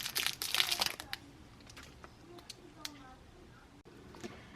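A crinkly plastic blind bag holding a toy figure is torn open and crumpled, with a burst of loud crackling at first and then softer, scattered rustles.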